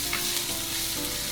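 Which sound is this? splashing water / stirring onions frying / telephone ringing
stirring onions frying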